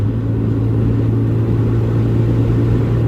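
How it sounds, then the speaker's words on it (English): Loud, steady engine drone of a warmed-up MR2 Spyder with a deep rumble and constant hum, heard from inside the car with no talking. "I was hoping it'd be a little bit quieter by now that the motor's warmed up"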